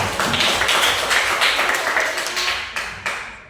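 A group of children claps together in a quick, busy burst that gradually thins and fades out over a few seconds.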